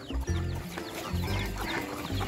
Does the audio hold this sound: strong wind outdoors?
no